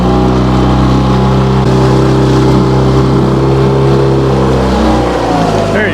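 Fishing boat outboard motor pushing upstream on the Cowlitz River while salmon fishing, a loud, steady mid-pitched engine drone with a constant hum throughout, close by.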